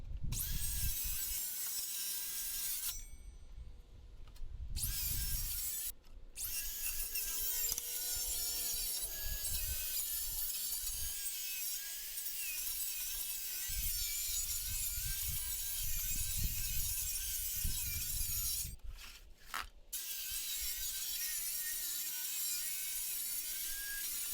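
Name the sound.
prying and cutting pallet wood slats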